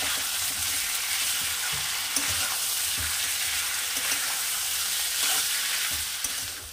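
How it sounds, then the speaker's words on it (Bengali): Meat and pre-fried potato pieces are stir-fried in a pan, a dense, loud, close sizzle of oil running throughout, with a spatula scraping and turning the pieces about once a second. No one talks. "আলুগুলো দিয়ে আমি আরেকটু কষিয়ে নেব।"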